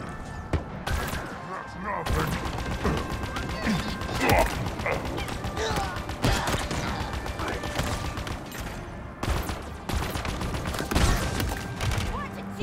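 Heavy gunfire in a busy Halo Infinite firefight, including sniper rifle shots, with repeated sharp loud cracks and thuds. Dense ongoing combat fills the whole stretch.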